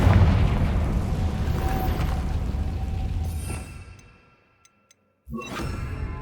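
Confringo blasting spell explosions in Hogwarts Legacy: a heavy, rumbling blast rolls on and fades into near silence, then a second sharp burst erupts near the end.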